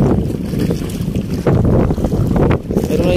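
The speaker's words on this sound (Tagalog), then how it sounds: "Lalong lumakas yung hangin mga kabay." Strong wind at sea during a typhoon, aboard a small fishing boat near the shore, heavy roaring gusts buffeting the microphone with surging waves beneath, loud and continuous throughout.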